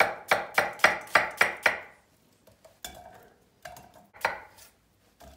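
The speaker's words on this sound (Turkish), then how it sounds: "soğanları doğruyoruz" Rapid, even knife chops on a cutting board as onions are cut, six sharp strikes in a row, then a few slower, scattered chops with pauses between them.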